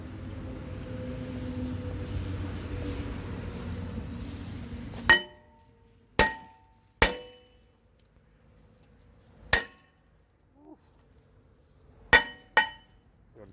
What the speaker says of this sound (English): now we're gonna take our sledgehammer here. And we're gonna whack this little rotor and it should pop right out.